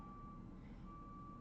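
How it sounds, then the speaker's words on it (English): A truck's reversing alarm beeps steadily somewhere outside, faint and distant, over a low rumbling background with no talking. "there's a truck beeping out there"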